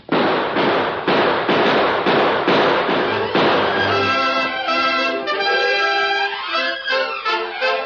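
Gunshots in an old-time radio drama shootout from The Lone Ranger, a rapid series of about eight loud, evenly spaced bangs, followed by ringing music with no talking.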